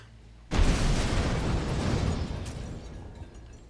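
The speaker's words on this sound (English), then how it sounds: "Explosions outside." A video game explosion goes off outside, a sudden loud boom followed by a long rumbling roar that slowly fades over several seconds, with no voices.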